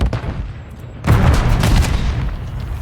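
A grenade detonates in a competitive multiplayer shooter match, a sudden loud boom that breaks over low background game noise and rolls into a dense, rumbling burst of gunfire-like crackle that gradually fades.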